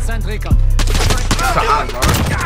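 Rapid gunfire bursts from the Modern Warfare video game, several sharp volleys loud and close, with a voice talking over parts of it.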